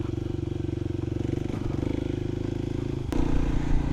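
A Kawasaki KLX300 dirt bike climbs a washed-out hill with its engine chugging steadily and close by. Loose rocks clatter under the wheels, a sharp knock sounds near the end, and the engine then grows louder.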